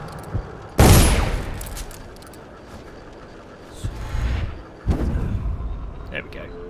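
A gunshot goes off in the video game Dishonored as one sharp, loud crack. A rumble follows, then another loud burst, with a voice speaking quietly at moments.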